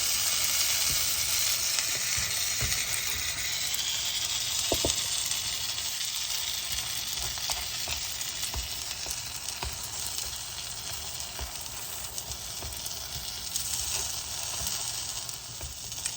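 A pesto grilled cheese sandwich fries in a skillet with a soft, steady sizzle that carries on evenly throughout, broken by an occasional faint tap.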